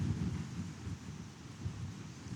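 Wind gusts outdoors, buffeting the microphone in low, rumbling surges that rise and fall continuously at close range, with no talking.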